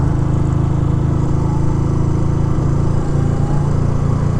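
A Honda CB350 motorcycle runs steadily while being ridden around a park on a cool November day, its engine drone loud, close and continuous with no talking.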